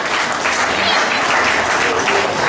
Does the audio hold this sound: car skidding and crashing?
no